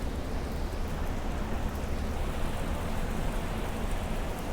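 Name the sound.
rain falling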